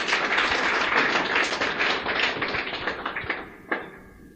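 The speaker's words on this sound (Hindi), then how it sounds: "तालियां बजा दें इनके लिए एक बार।" Applause from a seminar audience honoring a sponsor and mentor, a dense continuous patter of many hands clapping that thins out and fades toward the end, with no talk over it.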